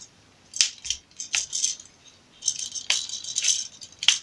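Plastic parts of a Transformers Titans Return Blurr toy click and rattle into place, a series of sharp, close, light snaps and small clatters in irregular clusters with quiet gaps between.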